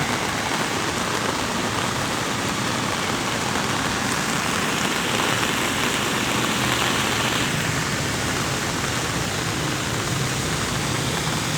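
Heavy rain pours down on a traffic-jammed Bangkok road near Lat Phrao during evening rush hour in a dense, steady hiss, with a low engine rumble underneath.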